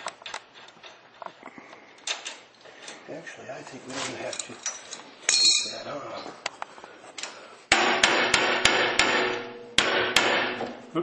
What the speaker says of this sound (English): Just pound on it just a little bit so we can just see what's happening.